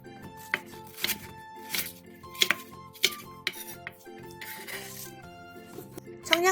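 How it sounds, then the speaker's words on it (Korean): A knife chops sliced onion and green onion on a cutting board in quick, uneven strokes, with sharp clicks and knocks over soft background music. "양파 1개를 채 썰고 대파 2분의 1개를 3cm 정도 길이로 썰어주세요"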